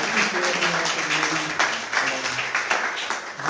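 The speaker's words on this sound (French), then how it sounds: "On peut encore une fois applaudir à chaque mère avec engagement" A church congregation applauds mothers on Mother's Day, a dense spread of hand claps from a large group continuing throughout, with some voices mixed under the applause.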